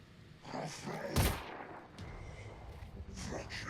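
Pistol shots in the tactical strategy game Phoenix Point, a few sharp cracks with one standout blast near the middle, set in a busy game soundscape and partly under talking voices.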